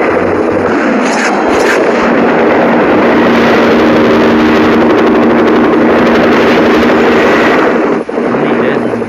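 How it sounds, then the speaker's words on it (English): Helicopter in a shooter video game, a loud continuous rotor whir and engine drone mixed with game noise and bursts of activity, steady throughout with players talking over it. "Go to wherever the helicopter went."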